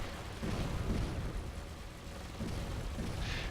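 Turrets fire aboard a spaceship in the space game Avorion, a series of low booming blasts at regular intervals, fairly loud over a steady rumbling background.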